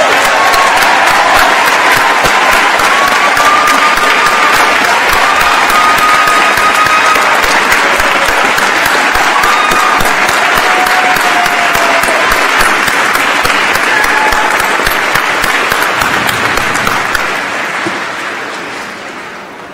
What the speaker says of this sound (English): Should we should give them all a big round of applause